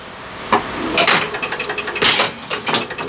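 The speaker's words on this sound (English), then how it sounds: "Let's just drop that ball in and watch it kick out." Gottlieb Magnotron pinball machine saucer kicking the ball back out: a sharp mechanical clack followed by a quick run of rattling impacts and rolling clatter, close and fairly loud with no talk.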